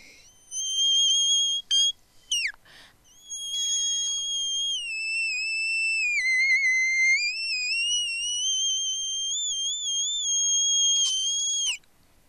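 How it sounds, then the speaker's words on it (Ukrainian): A sustained, piercing whistle-register note sung by a voice, with brief chirps first, then one long held pitch that wavers gently before cutting off. "відтворила голосом найвищу ноту у свистковому регістрі"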